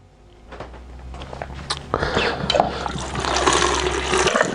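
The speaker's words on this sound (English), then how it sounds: "now we add water" Water pours into a Vitamix blender filled halfway to three-quarters with coconut pieces, a splashing, rising gush that grows louder and fuller over several seconds, close by and without talk.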